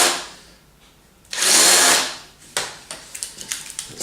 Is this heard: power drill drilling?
yes